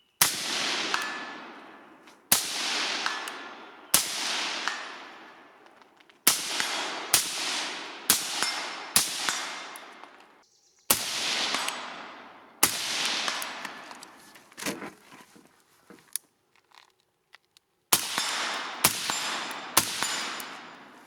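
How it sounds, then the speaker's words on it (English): A firearm fired around fourteen times in an irregular series of sharp, loud reports, each followed by a long ringing echo, with short pauses and a longer gap between groups. "I shouldn't have kept shooting."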